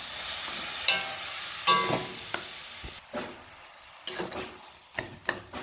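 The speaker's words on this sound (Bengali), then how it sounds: "বাঁধাকপিটিকে আমরা মশলার সঙ্গে ভালোভাবে মিশিয়ে দেব" Boiled cabbage being stirred and fried with turmeric and cumin in a pan over low to medium heat, giving a few distinct scraping and tapping strokes of the spatula over a quiet, low background sizzle.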